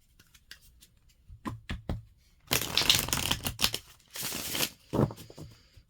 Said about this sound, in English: go ahead and cut the deck